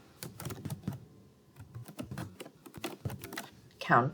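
Computer clicks and keyboard taps come in quick irregular bursts close by during a course registration walkthrough, with a person speaking quietly between them.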